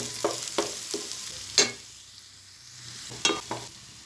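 Chopped vegetables frying in a pan and being stirred, a few scraping clacks of the spoon against the pan over a quiet sizzle, irregular and close, with no talking.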